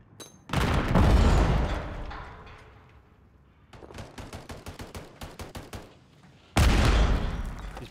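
Gunfire in the shooter game Call of Duty MWIII: a heavy burst opens the clip, a string of rapid single shots follows, then another loud burst closes it.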